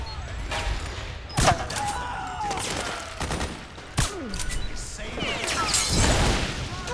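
Gunfire in the video game Metal Gear Solid 4: several sharp bursts and single shots crack out amid ongoing battle noise, with a few loud impacts standing out, and a voice speaks briefly under the action.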